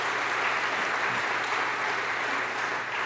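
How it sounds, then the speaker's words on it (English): Sustained, even applause from a banquet crowd at a Teacher of the Year awards dinner, a steady wash of many hands clapping throughout. "Let's give them a big round of applause"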